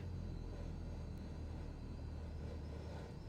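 A simulated Cessna 172 engine idling at 1000 RPM, a steady low propeller drone with a faint higher whine, continuous and even throughout.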